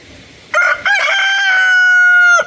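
A rooster crows once, loud and close, a long drawn-out call following a short clucking start, with quiet background before it.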